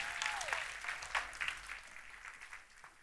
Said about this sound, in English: Give him a huge round of applause, guys.